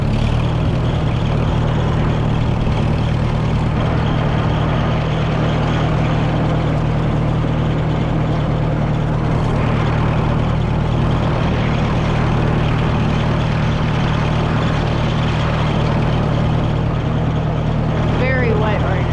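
A tractor engine runs steadily with a constant low droning hum while the machine is driven away after plow work on wet ground, loud and close throughout with no break in the sound.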